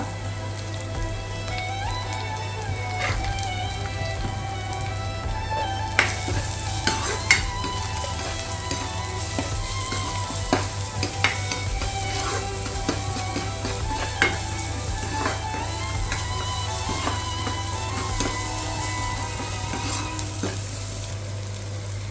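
Vegetables sauté with salt in a pan while uppumavu is being made, a dense, steady crackling sizzle like light rain, with occasional clicks of stirring and no voices.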